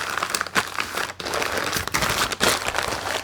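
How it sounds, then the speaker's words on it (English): Packing tape being pressed down onto a package makes close, rustling, crinkly noise in uneven bursts, with no one talking. "I'll just tape some of this down."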